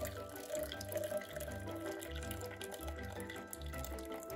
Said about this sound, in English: I'm dripping just a little. Another 50 milliliters going in here.